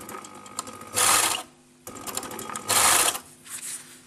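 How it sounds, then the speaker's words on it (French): A sewing machine stitches fabric 8 mm from the edge while a top is assembled from a kit. Two loud bursts of stitching are separated by short pauses, with quieter handling sounds in between and no talking. "On a préparé la couture et on va coudre à 8 mm du bord."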